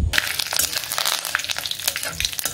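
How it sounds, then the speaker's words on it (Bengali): Mustard seeds and curry leaves spitting and crackling in hot oil for a tempering, a dense, continuous sizzle with sharp pops, close up and without talk. "এই যে সর্ষে আর কারি পাতা এটাকে একটু ফোড়নে দেবো"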